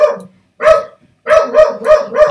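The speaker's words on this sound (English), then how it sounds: "I don't know if you can hear the carp dog barking like a nutter" A dog barks loudly and close by at a window: one bark, a second after a short pause, then four quick barks in a steady, frantic rhythm.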